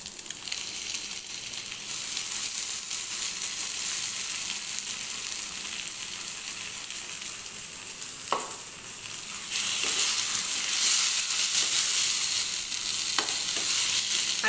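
Spice paste frying in a pan on a gas stove, a steady broadband sizzle that stays loud throughout, with a brief clatter near the middle and the sizzle swelling louder toward the end; no voices.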